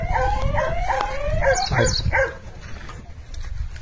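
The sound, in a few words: farm dog barking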